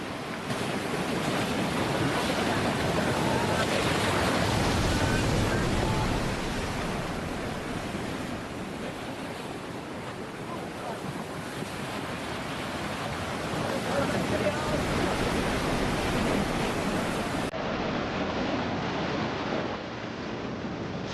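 Rough surf breaking on the beach of Minami Iwo To, a remote island off Tokyo, rolling as a steady broadband wash with swells and lulls, buffeted by wind on the microphone and faint voices underneath.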